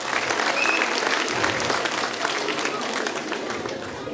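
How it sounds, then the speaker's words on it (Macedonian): Applause for seventh-grade students at a school ceremony, a steady, full round of clapping from a large audience, dense and moderately loud throughout. "Уште еден аплауз за сите ученици од 7 оделение."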